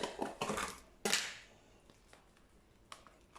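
Butter being crushed and pressed while cooking a Kilis-style tava, a cluster of sharp clacking and scraping hits near the start, then sparse fainter taps trailing off.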